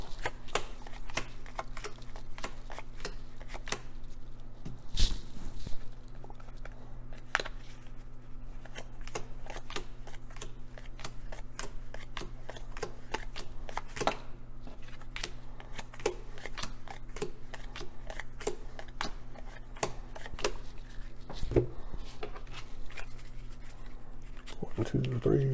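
Temple Run Speed Sprint playing cards are dealt, twelve to each player, with a steady run of soft snaps and slides as cards drop onto a table. A low hum runs beneath, and occasional louder slaps stand out.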